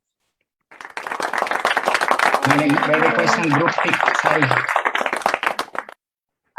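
Webinar participants give a round of virtual applause, a dense, continuous patter of clapping through their microphones that swells and then fades, with a voice talking over the middle of it.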